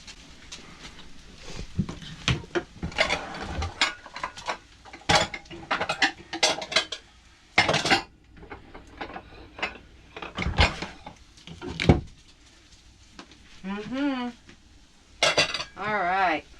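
Fried rice being scooped onto a plate, with repeated scraping and clinking of a utensil against pan and dish in irregular bursts, plus brief voice sounds near the end.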